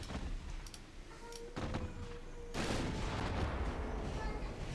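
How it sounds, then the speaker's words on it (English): Warship guns fire high-explosive shells in the naval strategy game Ultimate Admiral Dreadnoughts, with several booming shots and a sustained rumbling barrage at moderate level while a voice talks faintly underneath. "Now we're firing HE again."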